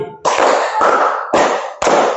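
Four loud group claps come from a sixth-grade classroom as the students strike their hands in unison. The claps are close, steady and evenly paced, each trailing a short room echo, with no voices.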